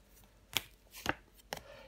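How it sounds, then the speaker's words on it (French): Tarot cards are laid down and covered on a table, making three soft, brief slaps and rustles spaced about half a second apart against a quiet background. "Je vais recouvrir le 9 d'épée et le 9 de bâton."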